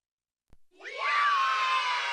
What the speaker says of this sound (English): can you play the sound effect from earlier to describe the rest of the crowd?